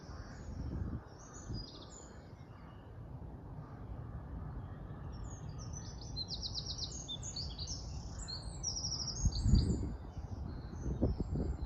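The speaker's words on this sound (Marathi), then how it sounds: "या पक्ष्यांचा आवाजसुद्धा तुम्ही ऐकू शकता" Morning birdsong rings out in repeated high chirps and trills, moderately distant, over a soft low rumble and occasional faint thuds; no speech.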